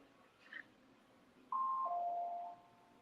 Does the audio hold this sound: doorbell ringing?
yes